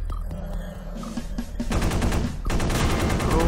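Turret machine gun fire in the indie shooter Space Beast Terror Fright, a rapid stream of loud bursts that builds denser and heavier over a low rumbling game backdrop, with no talking.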